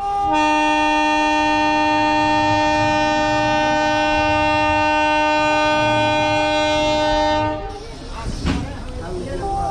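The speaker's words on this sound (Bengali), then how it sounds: "আমাদের ট্রেনের হুইসেল হয়ে গেছে। আমাদের ট্রেন ছেড়ে দিচ্ছে ঈশ্বরদীর উদ্দেশ্যে।" A long, loud horn blast from the Rohanpur commuter train in Bangladesh sounds for several seconds, then fades into the heavy rumble and clatter of the train starting to move out of the station.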